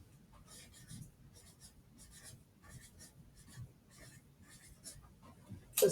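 A marker writing on a place value anchor chart makes soft, quick scratchy strokes in short repeated bursts, faint and close, ending with a louder rustle.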